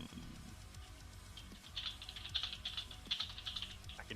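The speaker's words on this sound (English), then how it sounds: "I can hear the furious typing." Rapid, furious typing on a computer keyboard during a Dungeons & Dragons session: quick clustered key clicks that grow busier after the first couple of seconds, close and fairly quiet.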